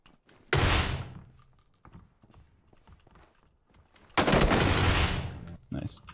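A Groza assault rifle in PUBG fires two loud, rapid automatic bursts of about a second each, separated by quieter scattered clicks and distant pops.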